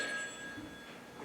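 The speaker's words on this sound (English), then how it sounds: "There it is again! That's the phone, Ken." A telephone rings faintly and steadily in an indoor scene from SCP archival footage. The tone is thin and sustained over a quiet background, with no one speaking.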